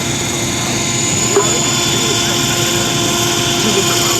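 A model Sikorsky CH-54A Tarhe helicopter's steady whining rotor drone fills the air, loud and constant throughout.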